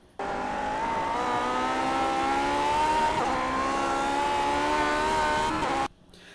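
A Lotus 49 Grand Prix race car in the iRacing simulator at Summit Point holds a steady, loud, buzzing engine note with slight dips as the throttle is feathered, running for several seconds before cutting off abruptly.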